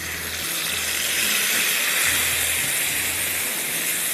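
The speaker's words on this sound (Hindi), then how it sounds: "दोनों को 1 मिनट के लिए भूनें और इसमें आप टमाटर डाल दीजिए" Three peeled, blanched, chopped tomatoes with whole cumin fry in a hot pan, giving a loud, steady sizzling hiss that continues without a break.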